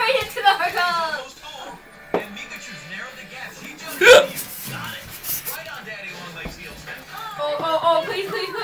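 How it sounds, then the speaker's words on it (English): A person hiccuping repeatedly amid talking, with sharp, brief hiccup bursts standing out, one especially loud near the middle, over ongoing speech. "These fucking hiccups are killing me."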